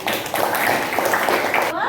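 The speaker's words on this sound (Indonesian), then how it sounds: "Tuh, ya, beri tepuk tangan" A group clapping hands together during a talk, continuous dense clapping that stops abruptly near the end as a voice begins.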